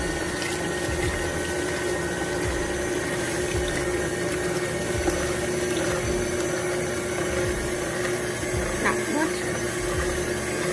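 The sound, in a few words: mixer mixing whipping cream with sugar for mango pie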